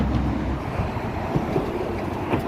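A metro train rumbles across the Sydney Harbour Bridge, a steady low roar of rolling wheels mixed with wind buffeting the microphone, continuous and fairly loud throughout.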